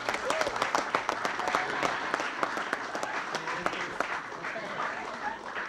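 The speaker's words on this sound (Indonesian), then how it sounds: "Hadirin mohon tepuk tangan untuk Bapak Suryadi" Studio audience at a comedy talk show applauding a participant, dense steady clapping filling the whole stretch at moderate loudness with no break.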